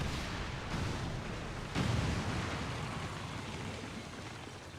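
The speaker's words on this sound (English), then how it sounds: "Detonating charges." Detonated charges go off in the video game XCOM 2, a loud rumbling blast followed by a second heavier boom that decays into a long noisy roar with no talk.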